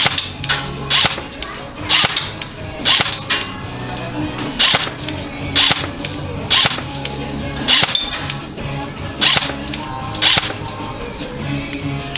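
Sharp, loud gunshots crack repeatedly at irregular but frequent intervals, each a short snapping burst, with several shots clustered close together at times.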